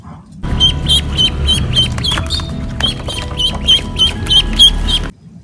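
A toy duck gives a continuous run of loud, close quacks and clucking calls, with a low rumbling hum underneath.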